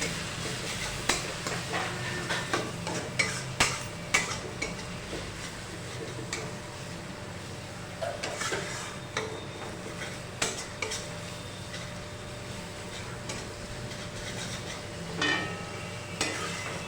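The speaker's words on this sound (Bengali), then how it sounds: "এবার আমরা গুঁড়ো মশলাগুলো ভালো করে মিশিয়ে নেব।" Powdered spices being stirred in a pan for rui kalia, a Bengali fish curry, with a spoon scraping and tapping against the metal in short uneven bursts over a soft, steady sizzle; no one speaks.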